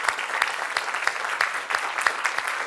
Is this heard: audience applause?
yes